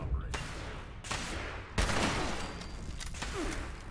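Enemies fire guns in Fallout 76 on PC, a dense fusillade of overlapping shots and bursts over continuous battle noise, with sharp loud cracks recurring every half second or so.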